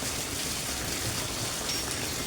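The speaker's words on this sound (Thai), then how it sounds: "ฝนตกเด้อพี่น้อง กำลังตกเลยพี่น้องเลย" Steady rain falls in rural Thailand, a constant hiss of drops with no change in loudness and no voices.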